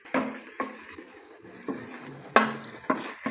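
Chicken frying in a pot over a low flame, a soft sizzle punctuated by irregular scraping and knocking as a spoon stirs it, fairly close and moderate in level with no talk.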